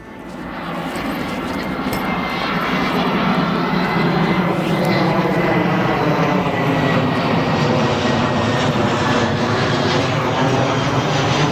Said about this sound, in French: Et il y a plusieurs avions qui passent.